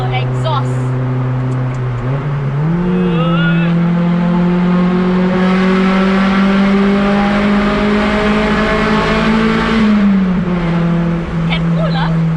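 A Honda Del Sol's engine revs up as VTEC engages, a loud, sustained rising engine note that climbs, holds high and then eases back. People talk over it throughout.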